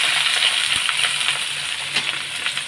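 Potato pieces fry in hot oil in a home kitchen, giving a steady, close, dense sizzle with faint crackles and light scrapes throughout, no voices.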